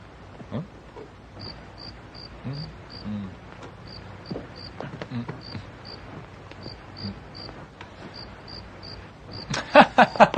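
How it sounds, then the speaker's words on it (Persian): A cricket chirps in regular short bursts throughout, fairly close and steady, under a soft background, in a 1938 Laurel & Hardy comedy scene, with a louder burst of clatter near the end. "قربان درسته صدا تو مغزتون نیست، این یک جیرجیرکه"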